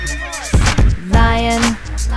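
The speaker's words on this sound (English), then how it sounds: "horse" A horse whinnies loudly and close, a long wavering neigh following a couple of short breathy snorts, heard alone in a children's animal song.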